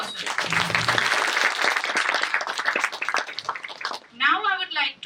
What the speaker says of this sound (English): I request you all to put a big round of applause for Saran